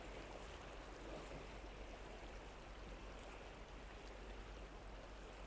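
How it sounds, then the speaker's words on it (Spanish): A fast-flowing river tributary north of the Yangtze in China rushes and churns steadily nearby as it is crossed, a continuous broadband wash of water with no voices. "El profesor Ran Ruichan cruza un rápido afluente al norte del río"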